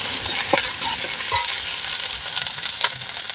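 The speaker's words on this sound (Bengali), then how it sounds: "হলুদ দিয়ে দেবো। ভালো করে কষিয়ে নেব মশলাটা।" Masala spices with turmeric and salt frying in hot oil in a pan, steady sizzling with the scrape and clink of a spoon stirring a few times, close and continuous.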